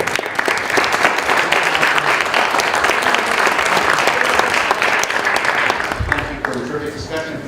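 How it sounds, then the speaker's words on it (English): Steady, dense applause from an audience at the close of a panel discussion on technology regulation, loud and sustained for several seconds before thinning out near the end. "In conclusion, please clap."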